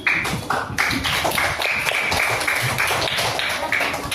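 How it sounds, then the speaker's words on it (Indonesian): Children in a classroom clap together in a steady, dense round of applause that holds loud and even for the whole stretch, with no talk over it. "Berikan tepuk tangan."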